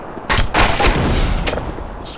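Shotgun fire in the shooter game Black Mesa: two or three loud, close blasts in quick succession with a rumbling tail, no talk over them.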